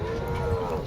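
A water buffalo at a village livestock market gives a short, deep, steady moo, loud and close, with no voices over it.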